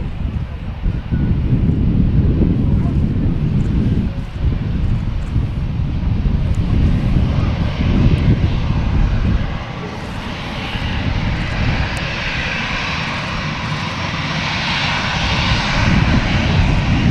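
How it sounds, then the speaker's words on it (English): Lufthansa Airbus A319 jet engines at Manchester Airport, a loud, continuous roar with heavy wind buffeting on the microphone, easing briefly before building again. "This is an A319. Rocking the new Lufthansa livery."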